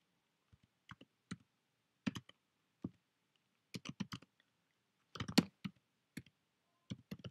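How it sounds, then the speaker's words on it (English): Typing on a computer keyboard while coding in JavaScript: irregular clusters of crisp keystrokes with short pauses between bursts, close and alone. "I'm doing a lot more typing."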